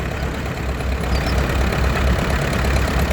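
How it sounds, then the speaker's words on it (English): Steady low rumble of a heavy vintage tractor engine chugging close by in a steam rally parade, constant and loud with no break. "We're getting a few non-European tractors coming around here"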